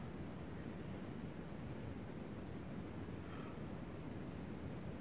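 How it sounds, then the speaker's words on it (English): Distant river rapids at Big South Fork, Tennessee, heard from a backpacking campsite at night: a faint, steady low rushing hiss, unbroken and even, like soft white noise with nothing else on top. "I can hear the rapids."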